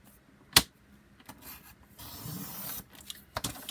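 Paper trimmer cutting paper: a sharp snap at the start, then soft sliding rubs and a longer swishing cut, closing with a couple of quick clicks, all close and fairly quiet.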